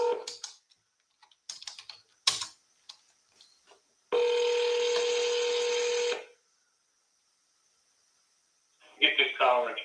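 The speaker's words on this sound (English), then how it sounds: "Boom. Calling now." Telephone dialing sounds start an outgoing call, with a steady ringing tone that holds for about two seconds and then stops. Brief keypad clicks and speech come before it, and more talk follows afterward.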